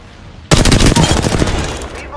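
Apex Legends gunfire, an abrupt loud burst of rapid automatic shots about a second and a half long, close and dominant.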